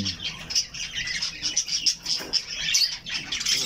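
A Spangled Pearlback hagoromo budgie chirps nearby in quick, busy bursts of high twittering, the calls repeating unevenly throughout.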